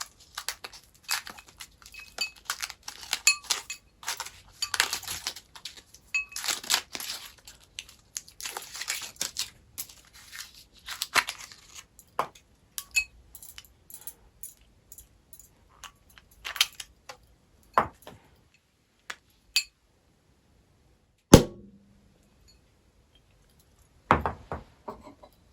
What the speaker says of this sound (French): je me tais et j'ouvre cette bouteille.